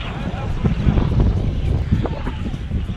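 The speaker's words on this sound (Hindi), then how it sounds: "और हवा बहुत ठंडी हवा चल रही है।" Cold mountain wind blowing across Chitral city with high peaks behind, gusty buffeting rumble on the microphone, fairly loud and continuous, mixed with muffled voices.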